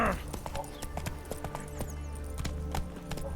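A horse gallops in The Witcher 3, with rapid, evenly repeating hoofbeats close by and steady throughout, over a low droning background.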